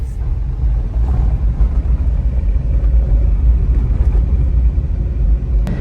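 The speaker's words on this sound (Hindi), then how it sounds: "डेंजरस सा ये ट्रैक है और हम इस पे अपनी इस गाड़ी को लेके जा रहे हैं।" A vehicle grinds steadily along a dangerous, rough off-road track on the Khaplu road in the mountains of northern Pakistan, next to a river. The engine rumble stays loud and continuous throughout, with no talk.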